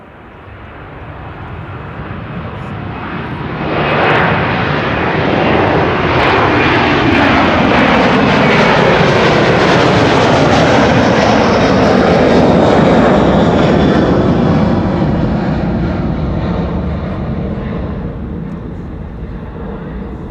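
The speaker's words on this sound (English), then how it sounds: "A330 departures usually are the loudest." A Delta Air Lines Airbus A330 departs Amsterdam Schiphol's runway 24, its jet roar swelling from a distant rumble into a loud, drawn-out pass with a falling whine, then slowly fading, and a voice talks faintly over it.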